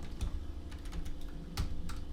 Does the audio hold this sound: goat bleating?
no